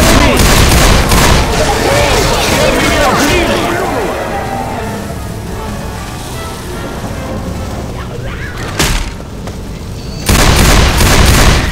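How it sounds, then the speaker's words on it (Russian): Loud, dense bursts of rapid gunfire and heavy booms in the video game Left 4 Dead 2, easing off midway before a sharp grenade blast and another loud barrage at the end. "Сейчас тут будет взрыв!"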